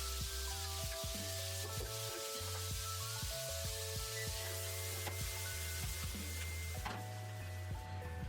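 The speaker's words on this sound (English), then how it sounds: "put the kimchi in the wok and fry for 1 minute" Kimchi fries in hot oil in a wok, a soft, even sizzle hissing steadily at low level beneath a droning hum, with faint scrapes and ticks now and then.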